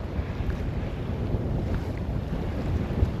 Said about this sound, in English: Probably better part of 15 knots of wind right now as we're headed south.